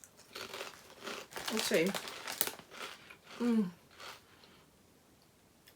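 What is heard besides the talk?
crunching crunchy paprika-flavoured snack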